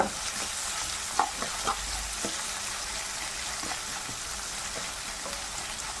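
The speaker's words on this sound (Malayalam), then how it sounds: "ഒരു അഞ്ചാറ് വെളുത്തുള്ളി ചെറുതായിട്ട് അരിഞ്ഞു രണ്ട് പച്ചമുളക് നല്ലോണം ഒന്ന് വഴന്ന് വെക്കട്ടെ" Chopped garlic and green chillies sautéing in a pan for bitter gourd curry, a steady bright sizzle with occasional scraping stirs of a spoon.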